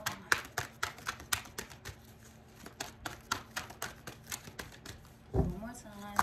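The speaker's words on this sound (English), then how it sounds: "These cards are really, really stiff and they're hard to shuffle" Stiff tarot cards being shuffled by hand, heard close as a quick, regular series of crisp slapping taps that continue for several seconds before a louder rustle near the end.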